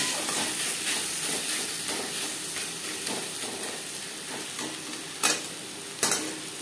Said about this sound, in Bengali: পেঁয়াজের সাথে টমেটো বেশ ভালো করে মিক্স করে দেব।